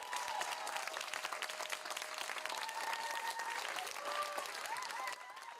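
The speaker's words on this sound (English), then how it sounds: "we do have some sound from of a bunch of parents clapping" A crowd of parents claps steadily, a dense, fairly even burst of applause that carries on for several seconds and thins slightly at the end.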